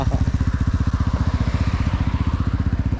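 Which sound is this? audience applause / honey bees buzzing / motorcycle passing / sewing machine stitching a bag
motorcycle passing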